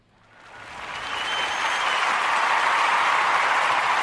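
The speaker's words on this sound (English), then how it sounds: "can I get a round of applause as a reset?" Applause from a live audience at a sports talk show swells from silence over the first second into a dense, even roar of clapping that stays loud to the end.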